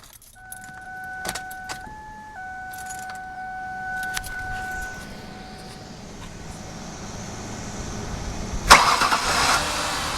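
A Ford Taurus has its keys jangled near the ignition, with a couple of steady chime tones, then the engine cranks and catches near the end, settling into a low running rumble.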